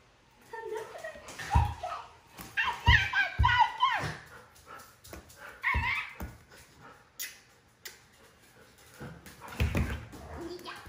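Dogs whimper and yip in several short bursts, loud and close, sometimes overlapping with laughter and people talking indoors at a workplace where a monkey is also present.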